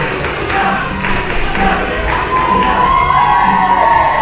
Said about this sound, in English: The crowd chanting for Nicky Young.